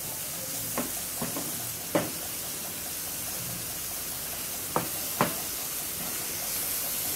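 Paneer kofta masala with roasted cumin powder cooks softly in a pan under a low, even hiss, broken by a few sharp spoon taps and scrapes as it is stirred gently.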